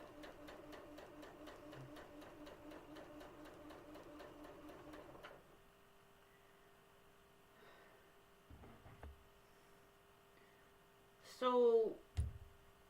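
Sewing machine stitching in rapid, even mechanical rhythm for about five seconds, then stopping, followed by quiet handling clicks and a brief louder rustle near the end.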